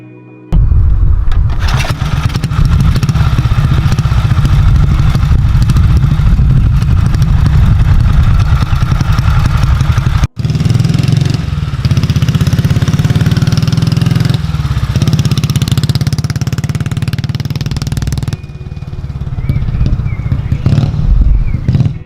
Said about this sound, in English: the Royal Enfield Bullet holds the distinction of the longest-lived motorcycle design in history